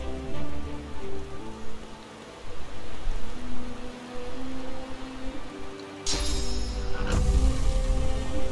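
Steady rain pattering on a surface in the video game Divinity: Original Sin II, a continuous hiss of drops with a low hum underneath that grows heavier toward the end.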